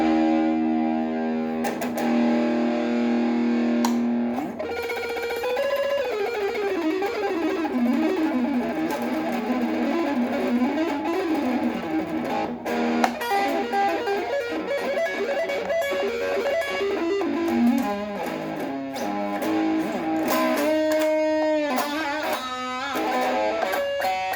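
A distorted Jackson Japan X Series electric guitar plays alone for the whole stretch, with sustained chords and bending, wavering lead lines that slide up and down in a fuzzy, saturated tone.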